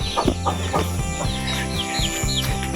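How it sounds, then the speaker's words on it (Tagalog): Chickens on a farm in the mountains cluck and squawk over and over at close range, with thin bird chirps mixed in and no talking. "Lumami ang mga manok ni Papa dito at ni Tata."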